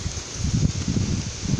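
Strong wind gusts during a severe thunderstorm make the leaves rustle in a steady, loud roar. Buffeting at the low end suggests wind hitting the microphone. There is no speech.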